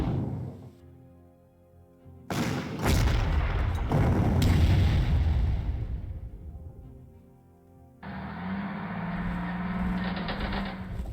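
Artillery fires in the Panzer Corps strategy game, with a sudden heavy boom followed by a long rumbling, crackling decay, then a brighter mechanical clatter near the end.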